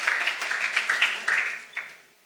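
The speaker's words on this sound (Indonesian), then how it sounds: "Beri tepuk tangan untuk Tuhanmu" Applause from a church congregation, a brief burst of scattered hand clapping with uneven rhythmic peaks, fading out after about two seconds, with no talking over it.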